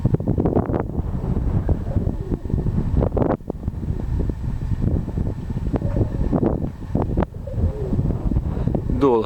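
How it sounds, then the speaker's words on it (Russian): Strong gusting wind at Novoekonomicheskoe in late March batters the microphone with heavy, low roaring buffets that swell and drop unevenly, briefly easing before picking up again. "ветер давал, утихает, набирает, вот как сейчас утих"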